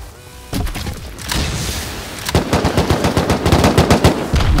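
Rapid gunfire erupts in the video game Rust, first scattered shots and then a sustained burst of automatic fire, loud and close, with no talk over it.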